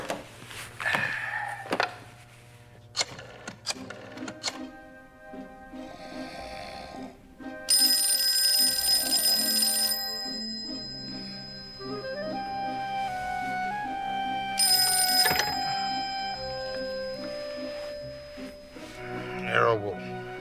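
A telephone rings in short repeated bursts as a detective places an outgoing call in an old mystery drama, the rings mixed with room noise and music, with other tones in between.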